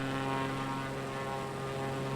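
A propeller plane's engine in Microsoft Flight Simulator 2020 drones steadily, a constant tonal hum with layered harmonics over airy noise, uninterrupted throughout.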